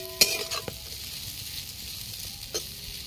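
Winter vegetables with curry leaves fry quietly in a pan, a soft sizzle broken by a few sharp stirring clicks near the start and once more near the end.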